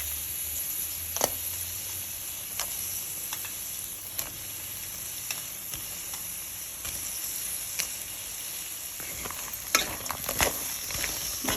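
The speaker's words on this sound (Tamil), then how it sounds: "நல்லா போட்டு வதக்குவோங்க." Crab pieces, cleaned and coated with salt and turmeric, frying in spiced oil in a home kitchen, with a steady low sizzle and periodic scraping clinks as they are stirred, close and moderately loud, no talking.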